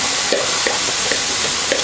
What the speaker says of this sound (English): So we're gonna basically saute our vegetables.